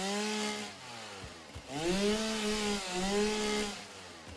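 Chainsaw in the video game Satisfactory cutting through vegetation, a droning engine whine with rising and falling pitch in two bursts separated by a brief dip, loud and close with no talking.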